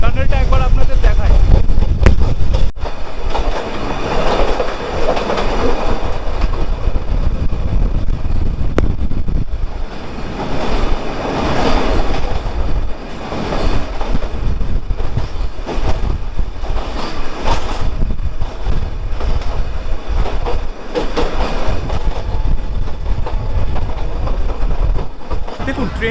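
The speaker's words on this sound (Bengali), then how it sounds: "এখন আমাদের ট্রেন টানেলে প্রবেশ করতে চলেছে," An Ooty toy train rumbles loudly as it runs into a mountain tunnel, with heavy rolling clatter and wind buffeting throughout, and a voice speaking over it.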